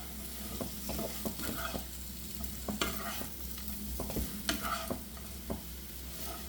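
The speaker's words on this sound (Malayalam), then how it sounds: "പതുക്കെ ഇതുപോലെ താഴെ മുകളിലേക്ക് ഒന്ന് മിക്സ് ചെയ്ത് കൊടുക്കാം" Potato pieces stirred into masala in a pan for a potato roast, with soft scraping strokes and a gentle sizzle repeating at an unhurried pace, close and fairly quiet, no talking.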